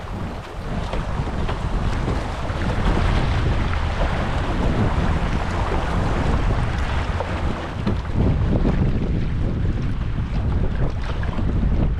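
A canoe running a small swift on a low-water Yukon river, with continuous rushing water and wind buffeting the microphone throughout, loud and close with no talking.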